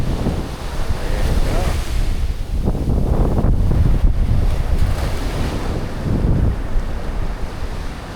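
Ocean waves wash onto the beach at Portsea in a steady surging roar, heavily buffeted by wind noise on the microphone, with rising swells around the middle.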